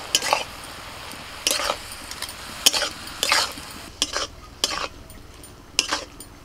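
Pea greens with salt and turmeric fry in a pan, a soft sizzle broken by repeated scraping strokes of a spoon against the metal, close and fairly loud, in an uneven rhythm of about eight stirs.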